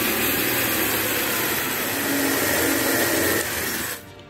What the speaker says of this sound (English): so now I can drill those out to the right size